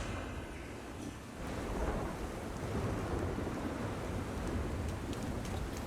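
Thunder rumbles over a steady roar of heavy rain in a stormy scene from the video game Zenless Zone Zero, the downpour swelling louder after the first second and continuing unbroken with no voices.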